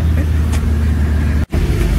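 A car heading home from an animal market with a loaded cow, moving through traffic; a steady low engine rumble and road noise fill the cabin, with a brief dropout midway.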